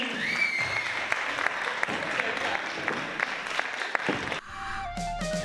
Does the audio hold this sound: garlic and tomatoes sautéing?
no